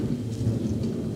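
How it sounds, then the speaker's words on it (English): Thunder rumbles through a storm in England, a loud, steady low roar that fills the whole moment with no voices over it. "That was thunder!"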